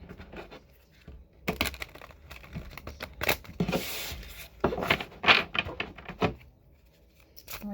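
A deck of oracle cards is shuffled close up, with papery riffling and rubbing in bursts separated by brief pauses, no voices.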